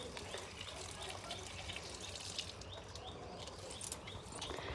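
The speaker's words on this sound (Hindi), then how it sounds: "अब घर पे शिव जी को पानी देंगे" Water is poured over a Shiva idol at a home shrine as an offering, a steady, fairly faint splashing trickle running continuously throughout.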